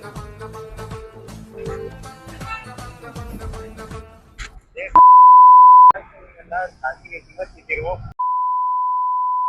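A phone call cuts off, leaving a loud, steady electronic beep tone that sounds twice, each time for a second or more, after a stretch of busy background talk and noise.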